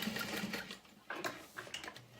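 A sewing machine stitches a leather clutch wallet about an eighth of an inch from the edge, producing short uneven bursts of close mechanical rattling with brief pauses between them.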